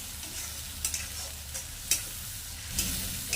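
Ground onion paste fries in a pan, sizzling steadily while a utensil stirs and scrapes it in a few distinct strokes. The cooking sound is close, with no talking.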